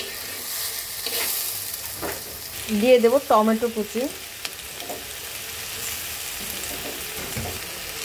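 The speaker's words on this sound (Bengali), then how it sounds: "এবার ক্যাপসিকামটাকে সুন্দর করে একটু হালকা ভেজে নেব।" Capsicum and chopped tomato fry lightly in a pan, giving a soft steady sizzle with a louder burst of stirring and scraping midway, while someone speaks briefly.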